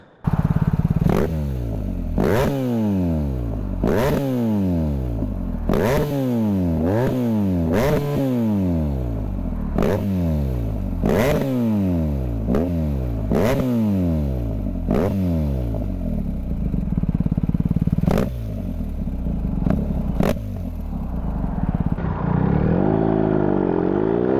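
A BMW R1250R motorcycle with an aftermarket titanium exhaust is revved repeatedly up close, about a dozen sharp throttle blips rising and falling in quick succession, then settling into a lumpy idle.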